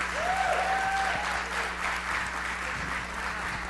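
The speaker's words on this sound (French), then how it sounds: "Man, je pense qu'on peut les applaudir." An audience at a church gathering claps steadily throughout, a dense, even wash of applause with a brief whistle-like tone near the start.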